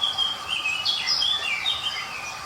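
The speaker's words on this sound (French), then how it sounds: "J'entends les petits oiseaux" Small birds chirp and tweet in quick, bright bursts, a few calls overlapping at moderate distance over a soft, constant background hiss.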